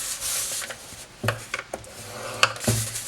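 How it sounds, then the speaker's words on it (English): Cardstock being scored at one inch along all four sides for a lined keepsake gift box, heard as a soft rubbing scrape followed by a few sharp taps and drags, close and quiet with no talk. "we're going to score this with the pattern we want to see up at 1 inch on all 4 sides"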